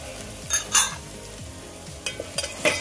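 Onion frying in oil in a pan for a Konkan cashew curry, a low sizzle under a few metal spoon scrapes and clinks against the pan in short bursts, close by, no talking.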